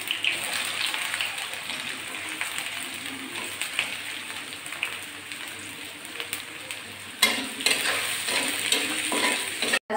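Chopped garlic and onion fry in hot oil in a pan, a constant close sizzle with stirring scrapes and a louder burst near the end, and no voices.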